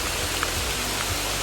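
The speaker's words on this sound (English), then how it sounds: "It's fucking raining out." Steady rain falls outdoors on the last day of a wilderness survival competition, a constant broadband hiss with no other sounds standing out.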